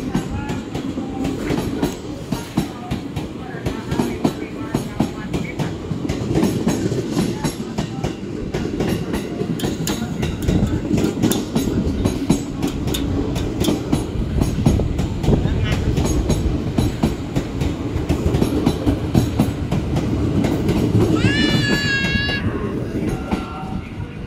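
A train pulls away from platform 6 at a busy Jakarta station, a steady close rumble of wheels and railcars running throughout, with voices at times and a brief high tone near the end.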